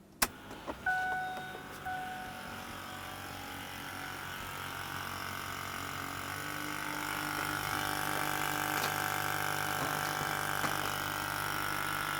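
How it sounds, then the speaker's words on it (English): Fuel pump on a 2008-2010 Ford F-250 with the 6.4L diesel priming after a fuel filter change, a steady electric whir and hum that builds and holds, with a few clicks at the start. "it's going to run the fuel pump, and it's going to push the diesel through and push the air out"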